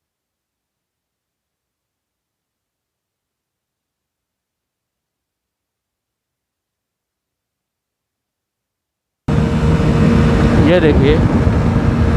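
Motorbike engines from a Hero HF Deluxe and a Honda CD110 drag race, heard only in the last three seconds after a long silence. The close engine drone is mixed with wind noise and someone talking.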